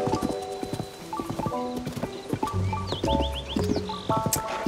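Horse hooves clip-clop steadily in the video game Zelda: Tears of the Kingdom, a brisk galloping rhythm running under melodic game music throughout.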